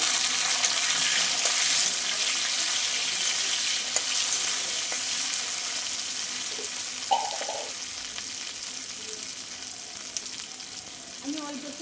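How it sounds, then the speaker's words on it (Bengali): Tomatoes added to potatoes already fried in a pan, giving a steady, close broadband sizzle throughout, with a few faint clinks and stirring sounds over it. "দেখো আলুগুলো ভাজা হয়ে গেছে এবার আমি টমেটোটা দিয়ে দেবো"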